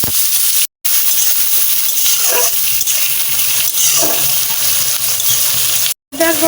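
Chopped onion is tipped into a pan of frying shing fish, bringing a loud, steady sizzle and hiss of hot oil that runs throughout with brief cutouts.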